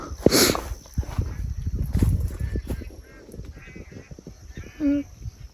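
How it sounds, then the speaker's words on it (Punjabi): Scattered honks and quacks from geese or ducks ring out over a river outdoors, with bursts of wind or handling noise and a few distant calls. "ਬਹੁਤ ਸਾਰੇ ਪੰਛੀ ਨੇ ਦਰਿਆ 'ਚ"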